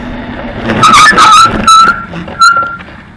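Bicycle brakes squeal in a few sharp bursts, rising and cutting out as the rider slows to a stop on an outdoor ride; the squeals sound close over a rough background of tyre and wind noise.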